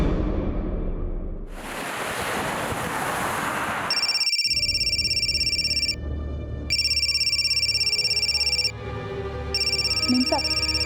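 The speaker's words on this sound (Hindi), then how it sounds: "आपका फोन बहुत बज रहा है।" A phone ringing with a repeated electronic ringtone in bursts with short gaps, loud and close, following a stretch of wind- or road-like rushing noise, with a faint low background under it.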